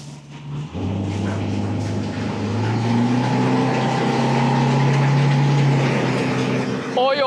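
A Hidea 60hp EFI outboard motor pushes a boat up to speed, its engine note climbing steadily in pitch and loudness over rushing water, with a brief voice near the end.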